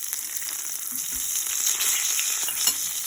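Beef tips fry in a cast iron pan on a Winnerwell tent stove, giving a steady, close sizzle with small crackles and no talking.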